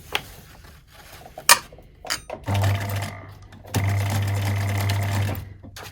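Sewing machine stitching fabric for a collaged fabric journal: after a few handling clicks and taps, two steady motor-driven runs of stitching hum closely, the second longer than the first.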